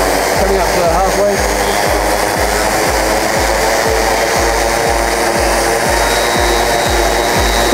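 Motors of a Pixhawk-controlled drone spin up just before takeoff, a loud close whirring drone with rhythmic low thumping pulses repeating about twice a second throughout.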